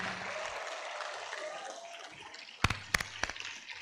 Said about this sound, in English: Big round of applause to the first batch of the summer term training program.